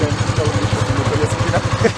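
Motorcycle engine under throttle from a first-time rider, a steady pulsing mid-pitched putter with slight revving swells, close and continuous while people talk over it.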